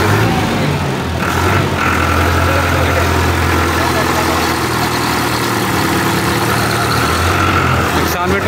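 A Kartar Globetrac 4x4 5936 tractor with an original Kirloskar engine idles steadily at a farm fair stall, a loud continuous low rumble with a mid-range drone lasting throughout, with background crowd noise.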